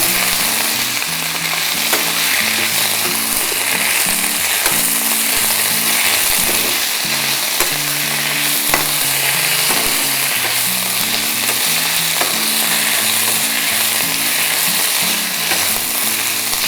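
Leaves frying in a pan for a home remedy against cough and cold, a steady dense sizzle running throughout with small stirring scrapes, close and alone with no voices.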